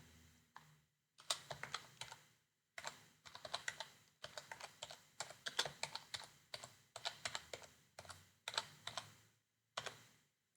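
Typing on a computer keyboard, close and fairly quiet, in quick bursts of clicking keystrokes separated by short pauses, with no talking.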